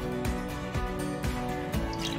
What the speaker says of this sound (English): So now we're going to add in our liquid mixture